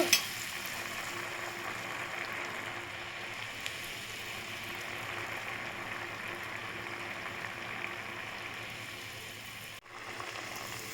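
Murukku dough frying in hot oil in a home kitchen, a steady dense sizzle and bubbling that holds evenly close up, with faint stirring and no voices.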